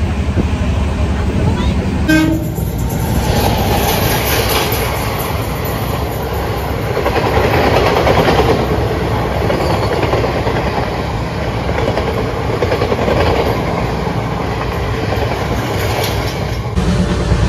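A fast train rushes along at about 130-140 km/h toward Bardhaman, with a loud, continuous roar and rhythmic rattling of wheels, a brief horn toot near the start.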